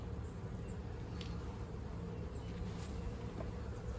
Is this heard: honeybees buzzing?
yes